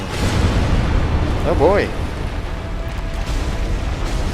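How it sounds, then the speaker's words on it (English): A boss's explosion attack in the video game Dark Souls, a deep, booming blast rumbling under background game noise while someone speaks briefly over it. "Oh, and you're doing the explosion."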